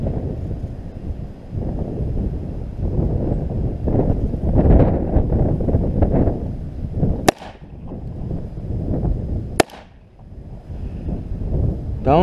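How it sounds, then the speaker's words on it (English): Gusty wind buffets the microphone outdoors at a shooting range, a steady low rumble throughout, broken by two sharp, loud cracks a couple of seconds apart. "It's fucking wind."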